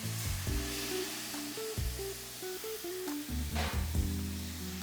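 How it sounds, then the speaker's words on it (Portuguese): Dry red wine hitting a hot pan to deglaze it, a steady loud sizzle with bubbling and crackle while a utensil stirs, no voices. "Olha como que vai soltando o fundo da panela, só com a questão do álcool"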